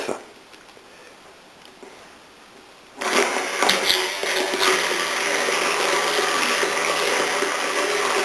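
A blender whips aioli at speed 9, its motor jumping from a lower whir to a loud, steady high-pitched roar partway through, running continuously with no talk.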